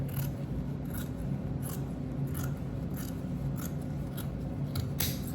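Scissors snipping through pants fabric for hemming, a steady series of close, crisp cuts repeating roughly every half second.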